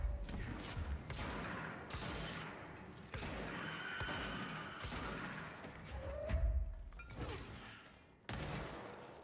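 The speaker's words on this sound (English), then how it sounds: "Explosion." Gunfire and explosions in the action video game Control, a series of sharp bursts and booming thuds at irregular intervals over a busy, faint background of game noise.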